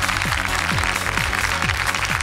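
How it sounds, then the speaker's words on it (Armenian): A studio audience at a televised singing-contest gala applauds warmly, a dense wash of clapping layered over loud stage music with swooping tones, continuous throughout. "իսկ դուք ջերմ ծափարեք, սիրելի հանդիսատես"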